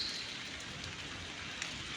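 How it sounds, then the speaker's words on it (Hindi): Rain falls over Solan in Himachal Pradesh, a soft, even hiss of drops with occasional small taps, faint and continuous with nothing else over it. "सोलन में इस वक्त बारिश हो रही है"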